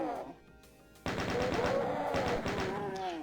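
Rapid chaingunner machine-gun fire rattles out in the video game DOOM, starting abruptly after a quieter moment and continuing as a dense stream of shots for the rest of the clip.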